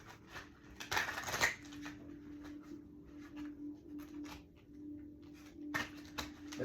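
Soft papery riffling and slapping of tarot cards being shuffled in short bursts, close and quiet, with a low steady hum underneath.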